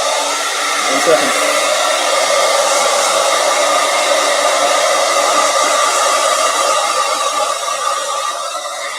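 A household blow dryer runs continuously at full power, a loud, steady broadband whoosh with a faint whine, unbroken for the whole stretch.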